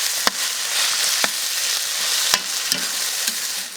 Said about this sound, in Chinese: 我们稍微炒一下这虾